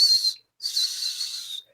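A whistle gives two shrill, steady blasts, a short one and then a longer one after a brief pause, clear and close with nothing else around.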